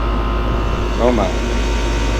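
An overheating air conditioner compressor in a contaminated, bone-dry system runs as a steady low mechanical hum and fan drone, with a brief burst of speech partway through.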